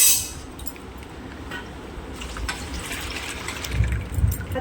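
Amul Gold full cream milk poured into a pan in a home kitchen makes a soft liquid gush, faint at first and then growing fuller toward the end.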